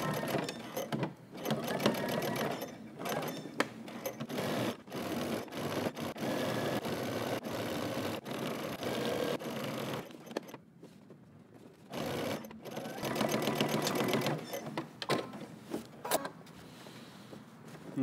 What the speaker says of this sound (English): head over to your sewing machine and we're going to stitch using 5/8 of an inch seam allowance all the way across